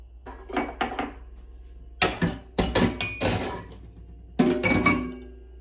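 Dishes being handled and washed in an apartment kitchen: a series of close clinks, clatters and thunks of plates and utensils in short irregular bursts with quiet gaps between.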